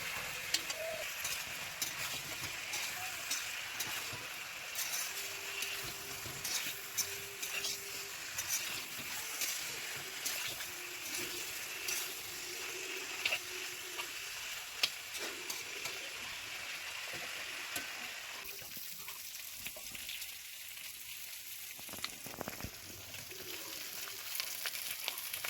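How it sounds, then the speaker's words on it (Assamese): Chicken pieces sizzle steadily in a hot pan for biryani while a spoon stirs and scrapes at intervals, the frying hiss continuous and close for the whole stretch, quieter and thinner in the final few seconds. "আকৌ ভাজি ল'ম ভালদৰে,"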